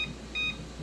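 A kitchen timer being set while water comes to a rolling boil for canning cranberry juice, giving two short electronic beeps over a faint steady hum.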